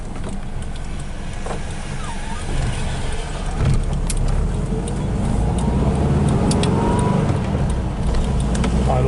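A 1970 VW Type 3 fastback's engine runs evenly during a test drive, a steady low rumble with road noise from inside the car, growing slightly louder partway through.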